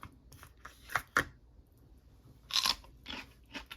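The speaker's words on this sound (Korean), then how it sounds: "오일 파스타랑 부모님이 직접 재배하신 오이 고추를 먹겠습니다" Crunchy home-grown cucumber peppers are bitten and chewed alongside an oil pasta meal: several sharp, close crunches in separate bursts, the loudest near the middle, with quieter chewing between them and no talking.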